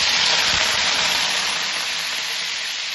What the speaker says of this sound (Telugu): ఇది ఉల్లిగడ్డ కాల్చి మనం మిక్సీ పట్టినాం కదా, అదే వేసుకోవడం.